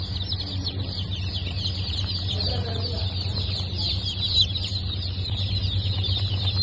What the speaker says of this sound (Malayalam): ഇതെല്ലാം അസീൽ ക്രോസിന്റെ കുഞ്ഞുങ്ങളാണ്.